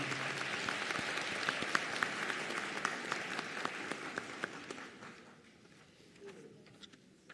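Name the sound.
audience applause for nursing graduates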